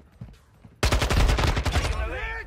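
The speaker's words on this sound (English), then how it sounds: "this is the AK-12, secret weapons in Modern Warfare 2" AK-12 assault rifle gunfire in Modern Warfare 2, a loud, rapid automatic burst of about a dozen cracking shots that starts abruptly and stops, followed by a brief clattering tail.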